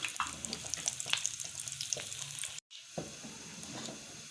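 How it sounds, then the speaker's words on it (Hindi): Cumin seeds and dried red chillies sizzle and crackle in hot oil for a kadhi pakora tempering, a steady close frying hiss that drops out briefly, then returns. "इन दो ही चीज़ों का हम बघार लगा रहे हैं।"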